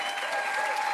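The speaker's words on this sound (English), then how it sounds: "give the biggest round of applause to all these partners that worked so hard" Steady applause from an audience at a community food-distribution launch event, a continuous dense patter of clapping that holds even throughout the short moment.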